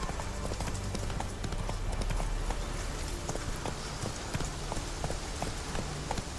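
Horse hooves in the video game The Witcher 3, a steady clip-clop of a trotting horse that stays close and moderately loud throughout, with faint ambient wash behind.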